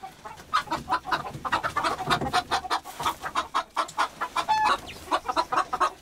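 Hens clucking in a backyard coop in a mountain village, a busy flock of about seven making rapid, repeated short clucks at close range, with a brief higher call partway through and no talking.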